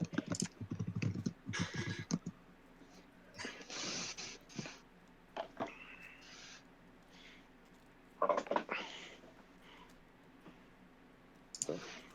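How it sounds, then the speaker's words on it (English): Irregular bursts of clicking keystrokes from a computer keyboard come in clusters separated by quieter gaps, fairly close but soft, with some mechanical clatter mixed in. "That's not actually me typing."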